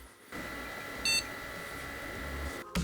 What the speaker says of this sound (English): The board is definitely posting from the beep, but there's no output.